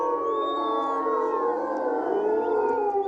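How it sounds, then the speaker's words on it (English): Timberwolves in Austria howling together, several long sustained wavering calls overlapping in a steady chorus that continues without pause, fairly loud and close with no talk. "Their howls can be heard more than 4 miles away, and wolves can recognize the individual calls of their pack."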